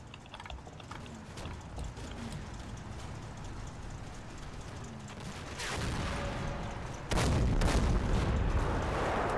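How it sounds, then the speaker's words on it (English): Tank gunfire from Sherman and Panther tanks at Stavelot in the video game Combat Mission Final Blitzkrieg: a low rumbling battlefield bed, then two heavy booming shots a second or so apart, the second louder. "They were shooting at that Sherman over there."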